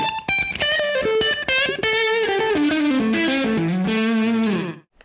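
Ernie Ball Music Man Jason Richardson electric guitar on its neck pickup through heavy distortion, playing a fast run of sustained notes descending in pitch over about five seconds, loud and alone before ending abruptly.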